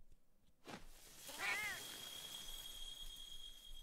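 A cat gives a single drawn-out, rising-and-falling meow that sounds close and clear, following a brief sharp noise, with a faint steady tone lingering afterward.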